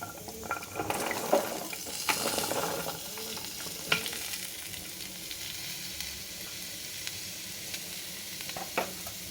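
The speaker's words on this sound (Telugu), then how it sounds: "పోపు కలిసేలాగా పైన కింద చక్కగా కలుపుకోవాలి." Raw papaya pieces being stirred into a mustard tempering in a pan. A soft continuous sizzle runs throughout, broken by occasional scrapes and knocks of the spoon against the pan.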